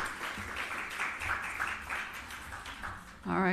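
An audience claps together after the presentations at a national health research conference, a steady patter of applause that holds for a few seconds before a voice cuts in at the very end.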